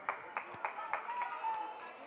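A crowd roars steadily through a loud school gymnasium at a Suns basketball game, with scattered sharp claps and shouts rising out of the continuous din.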